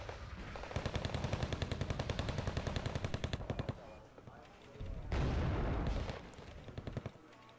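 Mi-28 helicopter gunfire in the Wargame Red Dragon video game, a rapid rattling burst of automatic fire followed by heavier booming blasts, with a voice talking over it.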